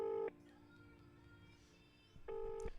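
Two short, loud telephone tones sound at the start and end, separated by a quiet stretch of faint line hiss.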